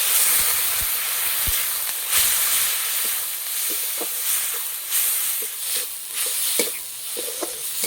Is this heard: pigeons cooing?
no